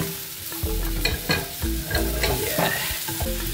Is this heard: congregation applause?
no